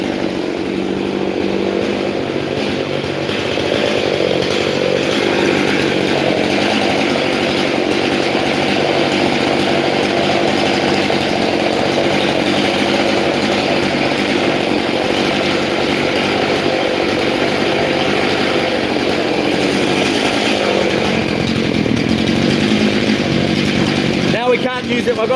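A chainsaw runs steadily while cutting wood outdoors. It gives a continuous, loud, buzzing engine drone that holds its pitch, then ends in a brief rattle at the finish.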